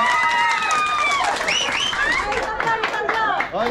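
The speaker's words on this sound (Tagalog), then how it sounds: "Palakasan ng palakpak." Guests at a Christmas party clap together amid excited shouting and chatter from a crowd, a loud, busy din that carries on throughout.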